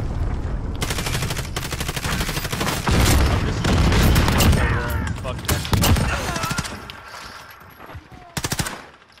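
Video game gunfire fills the match, with dense, rapid volleys of shots in bursts and gaps, loud and close, and a voice talking now and then underneath.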